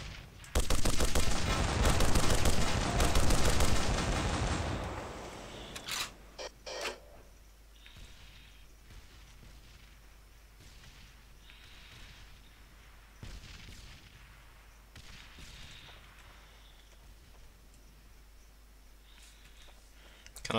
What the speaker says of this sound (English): Can I keep this gun, please? I really do love it. Oh, listen to that noise.